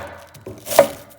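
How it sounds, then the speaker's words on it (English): A knife chops through cabbage on a cutting board, a couple of quick crisp thuds with one sharp louder strike, close up and with no talking. "then you can just chop the cabbage"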